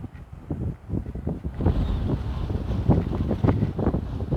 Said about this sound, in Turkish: Abi çok acayip rüzgar var. Rüzgar felaket felaket.